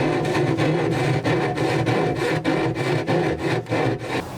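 Saw cutting box joints in plywood for a camper cabinet in a Defender 110 build: loud, close, rhythmic back-and-forth rasping strokes, about three per second, with no speech.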